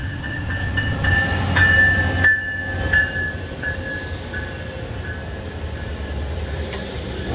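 Amtrak Phase 7 Charger locomotive pair hauling a train past, a steady loud rumble with a sustained high tonal whine, fairly close and continuous throughout.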